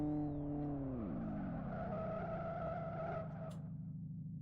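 A car's handbrake skid in the Live for Speed driving game: a loud engine tone drops in pitch, then a long, steady tire screech holds for several seconds before fading slightly, with no talk.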